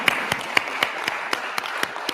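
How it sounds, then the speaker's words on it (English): An audience applauds at a talk, with scattered sharp claps over a soft, steady clapping wash, moderately close, and some talk mixed in. "take a round of applause for yourselves for coming"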